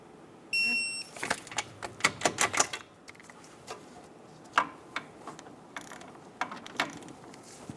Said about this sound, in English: Torque the caliper bracket bolts to 89 foot-pounds.